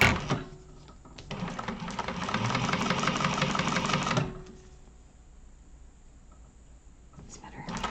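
A sewing machine stitches a seam along a bag handle with a 3/8 or 1/4 inch allowance, a loud, fast, steady whir running about three seconds before it stops, leaving a quiet room.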